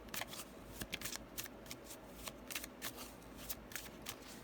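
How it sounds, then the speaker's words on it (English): Tarot cards shuffled and drawn by hand, close up: a steady patter of riffling card snaps and slaps, repeated in uneven bursts across the whole stretch with no talking. "Let's see what card comes out last."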